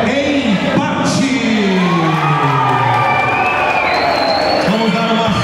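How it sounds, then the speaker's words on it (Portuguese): Audience cheering and clapping after a children's combat-sport bout ends in a draw, with a loud crowd roar running throughout and excited voices and whoops rising over it. "Vamos dar uma salva de palmas para esses guerreiros."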